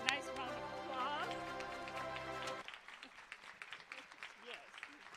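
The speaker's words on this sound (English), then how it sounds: "Let's give them a nice round of applause." Applause from an audience at a nursing pinning ceremony, fairly faint, rising after a stretch of sustained tonal music and continuing as a steady patter to the end.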